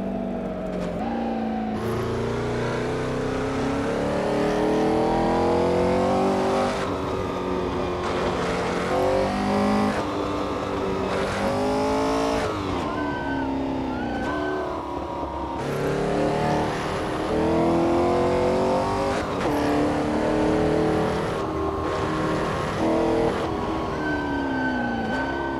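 A 1964 Porsche 904/8 race car is driven hard around the 72-kilometre Targa Florio course. The engine roars loud and continuous, rising in pitch as it revs and dropping at each gear change.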